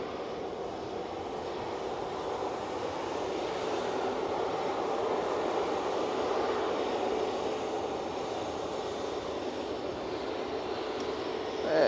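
A passenger plane departing Manchester Airport for Belfast gives a continuous jet roar that swells gently toward the middle and holds steady, with no talk over it.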